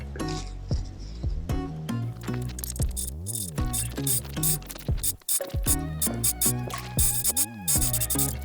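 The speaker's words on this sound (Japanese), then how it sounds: "三つ折りした部分をミシン掛けします" A sewing machine stitches the triple-folded hem of a fabric eco bag, a busy mechanical rattle with rhythmic pulses and motor pitch rising and falling as it starts and stops, fairly close and loud.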